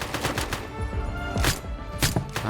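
Bursts of rapid video game gunfire crackle in quick succession, loud and close, with a few separate sharp shots punctuating the stretch.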